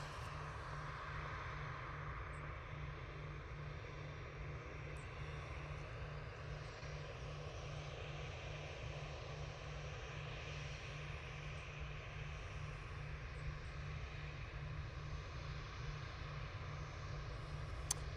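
An easyJet Airbus A320neo arriving from Amsterdam at Manchester Airport, its engines a steady distant roar and broad rumble holding level throughout, no voices.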